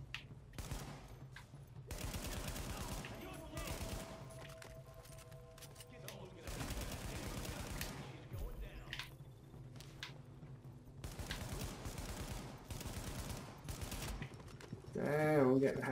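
Sustained bursts of gunfire fill a firefight in The Division as the player takes hits, loud and dense with brief lulls between volleys, while battle effects churn underneath.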